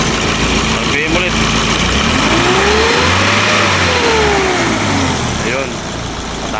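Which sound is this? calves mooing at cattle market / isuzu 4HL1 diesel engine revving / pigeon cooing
isuzu 4HL1 diesel engine revving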